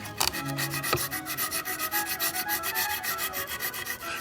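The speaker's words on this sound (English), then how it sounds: "out came the handsaw to cut off what would be better replaced than repaired" A handsaw rasps rhythmically through the wood of a broken cross holder from a Stations of the Cross statue, close-up, steady back-and-forth strokes with no speech.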